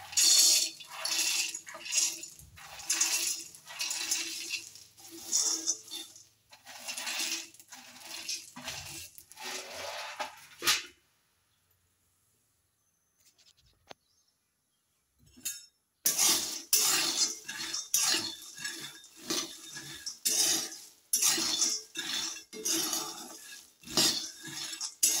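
Roasted peanuts tumble into a wok on a gas stove and get stirred, making a dry clattering rattle in bursts. A short quiet gap falls in the middle before the scraping and rattling resume.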